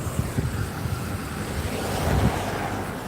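Gusty wind on a street in Da Nang, Vietnam, buffeting the microphone in loud low rumbles that swell and ease without pause.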